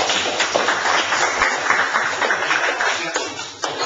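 An audience at a sales talk applauding a volunteer called up from the back, a steady patter of many hands clapping at moderate loudness, with a voice speaking over it.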